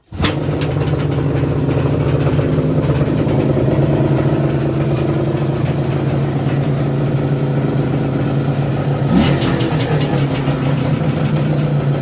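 An Izh Jupiter motorcycle engine runs loud and steady, a continuous mid-pitched drone with a low rumble, a throttle blip near the end briefly raising its pitch.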